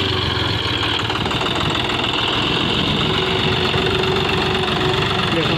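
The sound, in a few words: John Deere four-wheel tractor engine running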